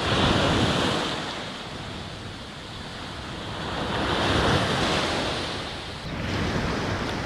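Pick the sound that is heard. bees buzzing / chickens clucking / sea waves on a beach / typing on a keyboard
sea waves on a beach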